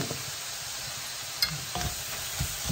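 Chinese cooking wine hits a pan of Indonesian stir-fried noodles (mie goreng) and sizzles steadily, with a sharp spatter near the middle and a few scraping stirs toward the end, close and fairly quiet.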